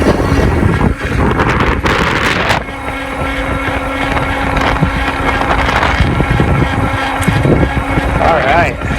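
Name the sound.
Nakto Santa Monica 500W e-bike motor climbing uphill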